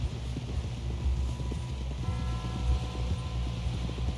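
Horse hooves clip-clop in Red Dead Redemption 2 in a steady walking rhythm, close and clear, with faint wind and low ambience under them.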